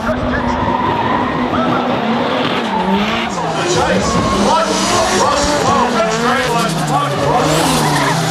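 Drift cars at a D1NZ drifting championship round in Whangarei skid with sustained, loud tire squeal and revving engines throughout, a continuous shrieking wash of rubber and motor noise with no pauses.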